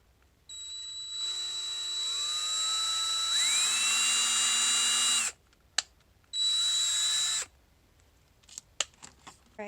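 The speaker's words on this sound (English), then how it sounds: "So I'm going to start with a very small drill bit." A small pilot-hole drill bit spins up in bursts while boring holes for a gargoyle gecko vivarium misting system, a high whining motor tone that rises and falls across two long runs, with brief clicks in the pauses.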